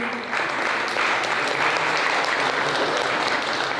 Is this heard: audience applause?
yes